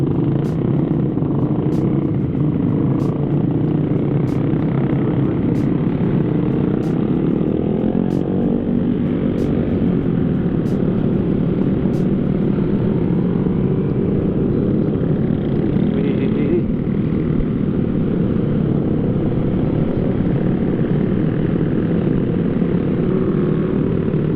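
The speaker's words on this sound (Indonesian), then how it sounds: "Aduh, knalpot racing semua ya." Several motorcycles fitted with aftermarket racing exhausts rumble steadily nearby during a group ride in Purwokerto, a dense continuous engine drone with people talking over it.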